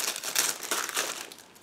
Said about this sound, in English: Meanwhile, I am opening the next plastic bag.